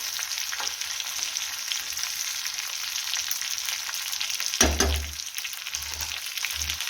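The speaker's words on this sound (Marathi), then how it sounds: "तर मिरच्या छान असं आपल्या इथं फिरून झालेल्या आहेत" Stuffed green chillies fry in a pan with a steady, close sizzle throughout, joined near the end by a brief louder burst of spitting as the pan is stirred or moved.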